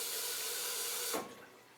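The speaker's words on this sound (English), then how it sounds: "I'll give my glass a quick cold water rinse as per usual." A glass rinser sprays cold water up into a beer glass in a short hissing burst that cuts off abruptly, leaving faint dripping.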